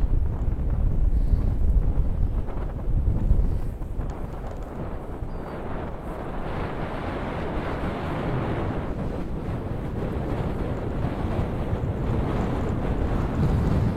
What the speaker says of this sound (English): Windy blow.